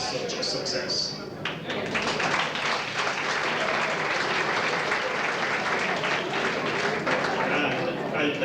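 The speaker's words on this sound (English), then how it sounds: "I'd like you to give a round of applause to the organising committee for making this occasion such a success" Sustained, dense applause fills a hall at a 1993 national school past pupils' reunion in Carrigallen, honouring the organising committee, steady and loud throughout with a few voices mixed in.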